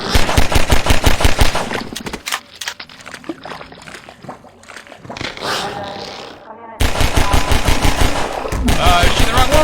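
Rapid automatic gunfire rattles out in Half-Life 2, a loud, dense burst at the start, a quieter stretch of mixed game noise, then another sustained volley near the end.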